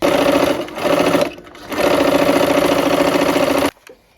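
A sewing machine runs close and loud, stitching a skinny brown rectangle onto quilt fabric pieces in steady whirring bursts, with a short pause between runs before it stops abruptly.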